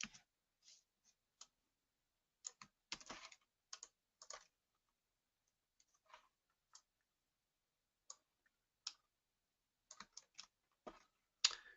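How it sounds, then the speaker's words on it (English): A computer keyboard being typed on in short bursts of quiet, close key clicks separated by pauses, with no voices. "we're going to write Jake Paul, or we're just going to write Paul's crossed with Santa"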